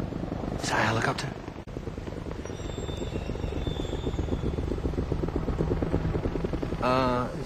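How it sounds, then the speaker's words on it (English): A helicopter's rotor chop and engine drone run steadily throughout, with voices talking briefly over it near the start and end. "Is that how a helicopter's supposed to sound?"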